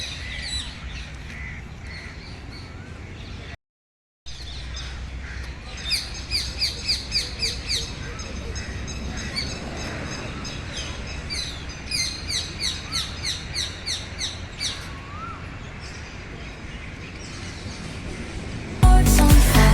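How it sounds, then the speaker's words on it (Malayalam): Parrots and koels call repeatedly in a park, bursts of sharp, rhythmic chirping and squawking over a steady outdoor background, some calls close and loud, others distant. "കേട്ടില്ലേ തത്തയുടെയും അതുപോലെ കുയിലിൻ്റെയൊക്കെ സൗണ്ട് കേട്ടില്ലേ?"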